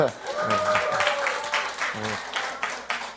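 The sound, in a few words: congregation applause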